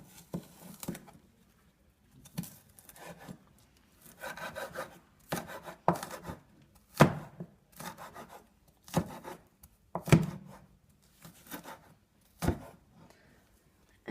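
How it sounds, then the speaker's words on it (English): A knife cuts through a piece of food, likely potato, for a potato salad, giving a series of soft, rasping scrapes and sharp taps at irregular intervals, close and fairly quiet. "Because this one is very difficult, we're going to cut it in two."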